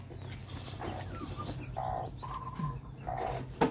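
A mother hen broods her chicks in a basin, giving soft, low clucks and brief higher peeps against a quiet, humming background.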